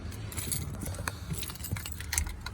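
Car keys jangling and clinking close by during a door lock swap on a 2008-2016 vehicle, a few short bright metallic rattles over a faint background hum, with no talk.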